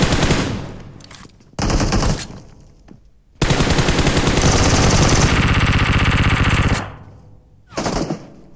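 Rapid automatic gunfire rattles in loud, close bursts during a mobile shooter match played on an iPad Mini 5, with one long sustained burst between shorter volleys and brief pauses.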